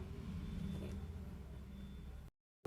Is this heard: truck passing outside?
yes